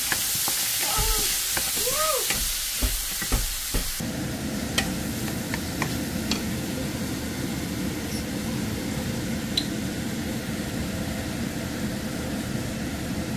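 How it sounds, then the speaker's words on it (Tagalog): Food sautéing in a pan makes a steady broadband sizzle for about thirteen seconds, with a few stirring clinks and scrapes near the start and no voices. "Nagisa-gisa lang yan."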